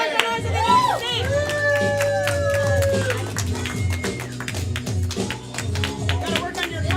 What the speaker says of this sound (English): Come Clap for them, make a bunch of noise